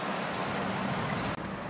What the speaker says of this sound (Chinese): 好好的天气突然就下起了暴雨